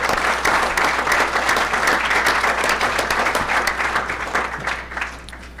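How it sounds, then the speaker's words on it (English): A school board meeting audience gives a sustained round of applause, loud close clapping that holds steady and then begins to thin and fade toward the end. "Let's give everyone another round of applause."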